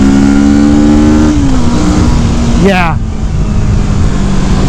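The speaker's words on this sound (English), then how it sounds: "like I said, guys, it's not slow at all. This is a great motorcycle." Kawasaki Vulcan S cruiser motorcycle engine pulling hard under acceleration, a loud close rising drone with wind roar, one quick upward sweep as it revs, with a brief spoken word over it.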